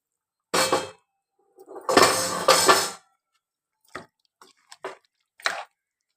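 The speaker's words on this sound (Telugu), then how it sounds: "ఇప్పుడు ఇందులో వాటర్ పోసుకుందాం" Water is poured in two splashing bursts into a pot of country rooster curry, followed by a few small drips and light metal clinks against the pot in an otherwise quiet kitchen.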